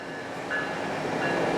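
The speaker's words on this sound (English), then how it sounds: "Damn GO train." A GO commuter train rumbles past steadily beside an alleyway, with a continuous roar of rolling wheels and faint tonal whines from the rails, loud and close, with no voices.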